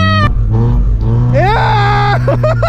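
A Peugeot 106 driven fast on a race circuit, its engine revving loud and close with a rising pitch as it accelerates, while people talk and exclaim over it.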